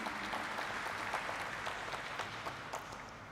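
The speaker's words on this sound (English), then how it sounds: "can we have a huge round of applause for the promoter family as well?" Steady applause fills the hall at a stock exchange listing ceremony, a dense, moderately distant clapping from the audience that continues evenly throughout.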